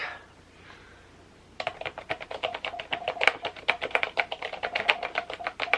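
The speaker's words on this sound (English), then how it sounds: "an old school, very satisfying clickety clackety keyboard that I love" Rapid, crisp keystrokes on a clicky old-school style mechanical keyboard start after a quiet moment and continue in a steady, close clatter.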